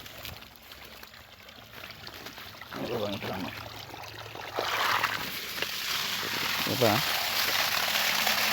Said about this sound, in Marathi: पाणी चालू आहे तुम्हाला मी लाईव्ह प्रूफ देतो हे बघा पाणी चालू आहे